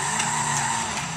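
Car tires in Sleeping Dogs squeal in a sustained, loud, high-pitched skid over a droning engine, with no talk over it.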